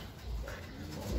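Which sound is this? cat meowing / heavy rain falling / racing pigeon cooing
racing pigeon cooing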